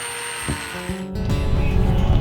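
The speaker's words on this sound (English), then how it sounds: "I'm now going to get the grinder on it with the sanding disc on it" An angle grinder with a sanding disc on rotten boat wood starts with a couple of clicks, then spins up into a rising, rough whir and grinding hiss that builds and holds, close by.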